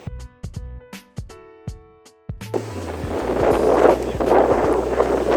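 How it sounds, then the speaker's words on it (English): Gusty wind buffets the microphone in a loud, rumbling roar that builds and stays strong, after a few sharp knocks at the start. "It's pretty windy out here."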